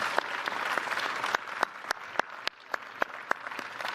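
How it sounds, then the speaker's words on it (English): Applause from a crowd at a university commencement, steady clapping filling the space with a few sharper claps standing out, moderately loud throughout. "please join me in a round of applause for all of our special guests"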